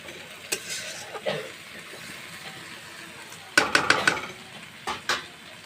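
Dried fish tossed into a frying pan and stirred, a few soft scrapes and a quick run of sharp metallic clinks of a spatula against the pan, then two more knocks, in a quiet home kitchen.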